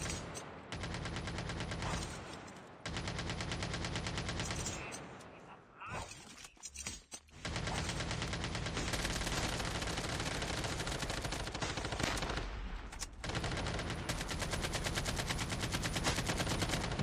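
Turrets and guns firing during the Undead Siege night wave of COD Mobile, sustained rapid gunfire filling nearly the whole stretch with short pauses, loud and dense throughout.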